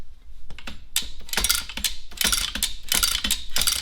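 A car wheel dolly in a workshop is lowered by lifting its lever, giving a close burst of rapid metallic ratcheting clicks and clatter that comes in uneven pulses over a few seconds.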